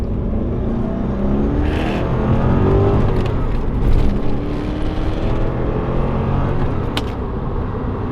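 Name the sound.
V8 sports car accelerating hard in first gear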